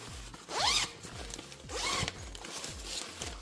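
Two quick zipper pulls on a storage bag for truck sunshades, a short rasping zip followed by a longer one, close up with a faint hum underneath and no voices.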